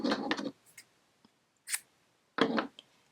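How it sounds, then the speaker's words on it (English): Scissors snip black yarn at a crochet project with two crisp close cuts separated by a pause, plus a few faint light clicks between them, in an otherwise quiet room. "You can go ahead and snip your black yarn."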